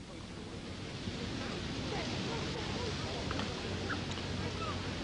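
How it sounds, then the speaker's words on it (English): Wind gusting across an outdoor field during a 1999 modified football game between Eastchester and Hastings, heard as a steady, fairly loud broadband rush with microphone buffeting that continues without a break and no voices over it. "Wind blowing up here a little."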